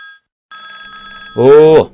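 A telephone bell rings in short electronic bursts, loud and close, then a voice cuts in briefly at the end.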